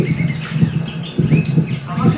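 A Sykes's lark, a mimic of other birds' calls, gives a string of short high chirps and whistled phrases, played back and heard faintly under a low voice and background hum.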